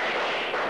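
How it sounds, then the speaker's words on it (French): Black powder gunfire at a Waterloo battle reenactment, a dense, continuous roar of massed musket and cannon fire blending into one loud, sustained rumble with no talk. "Pour les coups de feu, on utilisa une poudre d'escopette, noire, la poudre à canon classique."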